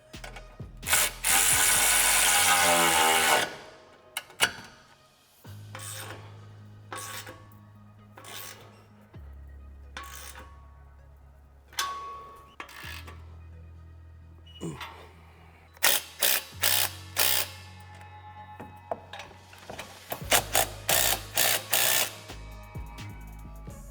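A ratchet tightens the bolt on the factory exhaust hanger of a 2018-2023 Mustang GT during a cat-back exhaust install, with short bursts of clicking and sharp metallic taps between quiet pauses, plus a loud whirring burst near the start.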